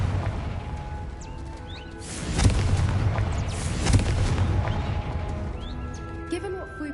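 Confringo blasting curse in Hogwarts Legacy, a deep booming explosion burst with a rumbling tail, a second swell following, set against game ambience and a speaking voice.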